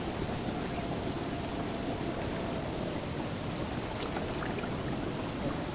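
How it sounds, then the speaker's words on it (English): Steady, even hiss of rain falling continuously in the video game Breath of the Wild, dense and moderately loud with no pauses or voices. "So if it could stop raining, that would be great."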